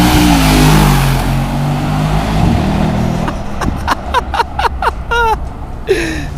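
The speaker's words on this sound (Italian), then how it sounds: "Sto letteralmente decollando quel classe G." A Mercedes G-Class engine roars loudly as it accelerates away at a street car meet, fading after a few seconds into sharp, scattered high chirps.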